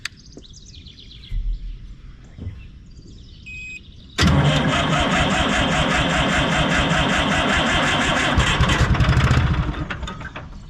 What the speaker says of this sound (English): So let's give it a little throttle and give her a crank.